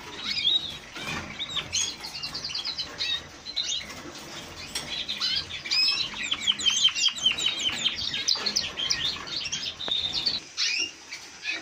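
A small yellow bird in an aviary sings a run of high, rapid chirps and trills, with other birds and wing flutters around it, fairly close and continuous.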